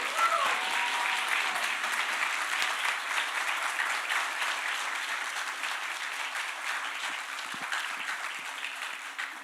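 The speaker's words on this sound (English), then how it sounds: "you can see a lot of people are clapping" Sustained applause and clapping from a large audience at a hackathon final pitch session, honoring the organisers; steady and fairly loud throughout, slowly tapering, with a little faint talk mixed in.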